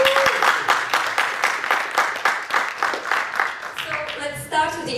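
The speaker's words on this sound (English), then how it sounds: "So I'm just clapping, you didn't." Clapping from an audience at a panel event, a quick run of sharp claps that fades as a voice starts speaking near the end.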